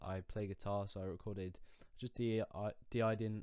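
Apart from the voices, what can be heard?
No everyday noises stand out.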